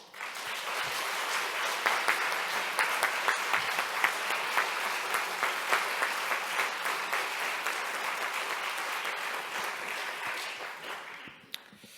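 A large church congregation applauds steadily and warmly for several seconds to welcome a speaker before the clapping fades out.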